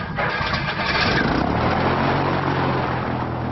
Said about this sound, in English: When the engine fires,